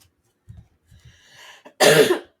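A few faint throaty sounds followed by one loud, harsh cough close to the microphone, with no talking.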